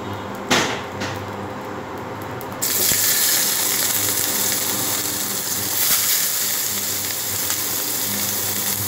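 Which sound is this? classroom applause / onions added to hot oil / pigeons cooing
onions added to hot oil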